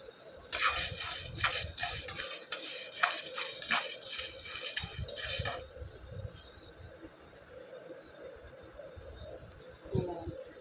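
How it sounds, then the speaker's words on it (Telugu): Chana dal dry roasts in a pan without oil for a gongura sesame spice powder. A spatula scrapes and stirs it in rapid, dry rattling bursts for several seconds, then the sound fades to a quiet hum. "2 స్పూన్ల శనగపప్పు కూడాను మనం దోరగా వేయించేసుకోవాలండి"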